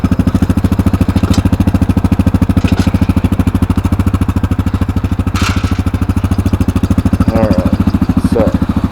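A small engine on a powered pine straw rake runs close and loud with a steady, rapid chugging putter, holding an even idle-like rhythm throughout with a few faint clinks and squeaks on top.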